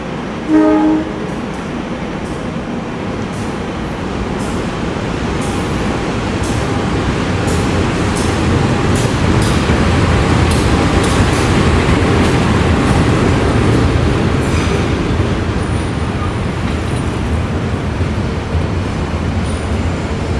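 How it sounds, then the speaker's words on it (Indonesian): A passenger train, the Ijen Express, rumbles steadily into Probolinggo station in Indonesia, loud and close, with wheels clattering over rails and a brief horn at the start. "ini dia kereta api Ijen Expressnya masuk stasiun Probolinggo"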